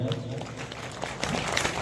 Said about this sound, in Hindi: सबसे पहले वाहिद साहब के लिए मैं चाहता हूं कि आप लोग जोरदार तालियां बजाएं।